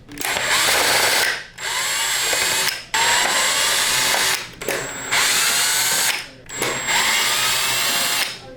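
A power drill backs screws out of the handle of a Prolux CTX vacuum in several loud bursts, each a steady whine that ramps up and winds down, separated by short pauses.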